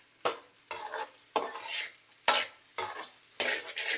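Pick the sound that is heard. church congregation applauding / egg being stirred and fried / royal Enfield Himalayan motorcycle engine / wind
egg being stirred and fried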